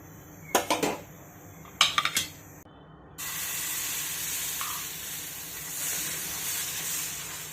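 Gram flour batter for besan dhirde hits a hot griddle and breaks into a steady close sizzle, after two brief clinks of utensils.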